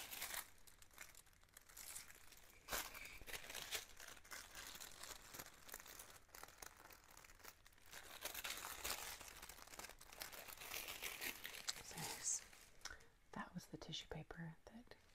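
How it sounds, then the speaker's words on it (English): Tissue paper from an unboxing is crinkled and rustled close up in quiet, soft handling, with whispered talk running alongside the crackling. "Tissue paper that came in the box."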